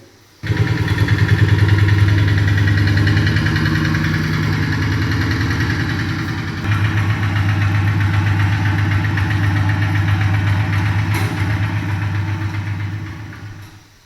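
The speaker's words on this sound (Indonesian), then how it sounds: "Itulah tadi cara mengoperasikan traktor roda 2." A two-wheel hand tractor's engine idles steadily and close by at a vocational school in Ende, giving a continuous rumbling chug for about thirteen seconds with no talking before it cuts off.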